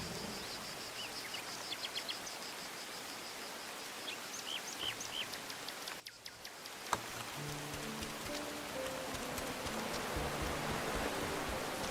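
A rainstorm in the video game Moonlight Peaks, heard as a steady, soft hiss of rain throughout, with faint bird chirps early on and a brief dip and single click midway before the rain swells slightly louder.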